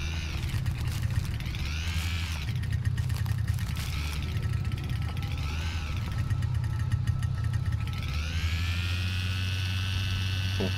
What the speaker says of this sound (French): Chargement avec bruit de moteur qui merde.